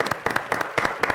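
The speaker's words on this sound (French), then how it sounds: "on va l'applaudir bien fort" Studio audience on a French game show applauding the winner, with bursts of clapping in uneven rhythmic pulses, fairly close and moderately loud.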